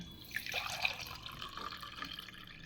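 Bael leaf juice is poured into a glass at home during a Navratri fast, a soft, brief liquid trickle and splash with faint drips, heard up close with no talking.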